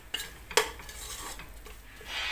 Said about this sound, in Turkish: Tereyağıyla kavurmamız lazım.